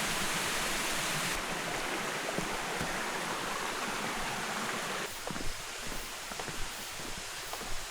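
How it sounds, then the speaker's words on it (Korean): A waterfall slides gently down a rock face on a mountain trail, giving a steady close wash of water that holds throughout, with faint taps and rustles on top. "암벽을 타고 완만하게 흐르는 폭포네요."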